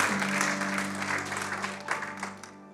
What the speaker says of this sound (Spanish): Denle ese aplauso fuerte al Señor porque Él es bueno.